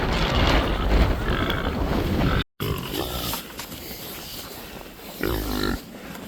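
Pigs grunting and snorting in a video game, several rough, close grunts in uneven bursts with a brief dropout partway through, heard alone without talk.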